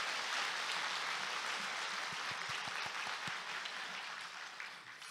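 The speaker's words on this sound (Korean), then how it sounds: "중고등부에서 다시 한번 뜨겁게 박수." A church congregation at a Sunday worship service applauding, a broad, sustained roar of clapping with a few distinct louder claps, tapering off toward the end.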